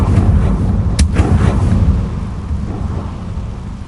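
A Confringo blasting spell going off in Hogwarts Legacy: a loud, rumbling boom with a sharp crack near the start, followed by a couple of echoing follow-up blasts over a constant low roar that gradually settles.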